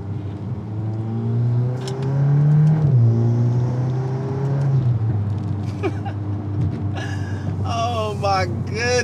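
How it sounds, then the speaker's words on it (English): A stock-exhaust VW Golf R MK8 hatchback with a custom open air intake revs its turbo engine, a rising and falling drone with a whistling whir, followed by sharp pops and bangs, while someone talks over it. "Turbo noises."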